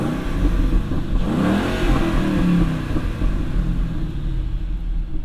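The 4.6-liter V8 of a 2008 Ford Mustang GT convertible with a five-speed manual rumbles loud and close, rising in a couple of deep revs before settling into a throbbing idle.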